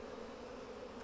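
Honey bees hum in a continuous, low, steady drone during a Flow Hive brood inspection, close and fairly quiet.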